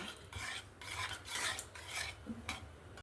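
Masala being fried and stirred in a pan for a chicken curry with potatoes: a continuous close scraping and rasping of a utensil against the pan, with steady bursts of stirring and no voices.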